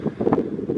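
Gusty wind buffets the microphone on a mountain top in the Kaweka Ranges, a low rumbling rush that rises and falls in short surges with no voices.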